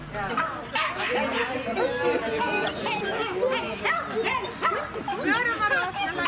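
Several dogs bark, yip and whimper at a Rally O dog sport competition on a club training field, with busy overlapping yaps close by under a steady murmur of human chatter.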